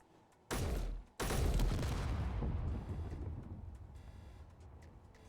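A rocket is shot in the Space Engineers video game, heard as two loud, close blasts about half a second apart, then a rumbling roar that slowly fades over several seconds.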